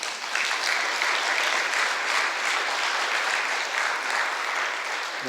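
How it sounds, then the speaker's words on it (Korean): A congregation at a Sunday worship service applauds its pastor, a loud, even wash of clapping that holds steady throughout with no talk over it. "목사님도 힘내세요 하고 박수 한번 쳐드립시다"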